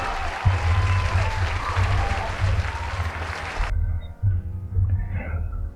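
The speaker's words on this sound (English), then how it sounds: "I'm going to have to shorten that that sound alert that I have for the applause" A recorded applause sound alert plays during a Pokémon Legends: Arceus game stream, with a burst of crowd clapping and cheering that stops abruptly, followed by faint game sounds.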